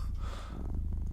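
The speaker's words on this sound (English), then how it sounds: "Cat. Cat purr. Natural noises." A cat purring from a played ambient natural-sounds recording: a soft, low, rhythmic rumble of steady pulses, quiet and close.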